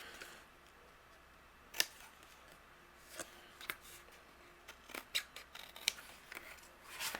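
Scissors trim the rounded corners off a paper photo frame for a handmade card, a series of short, crisp snips spaced irregularly against quiet room tone, close to the mic.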